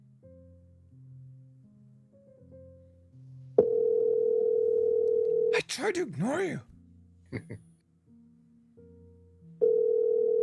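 Telephone ringback tone while calling someone's phone, steady electronic tones pulsing on and off, interrupted by a loud burst of a voice in the middle.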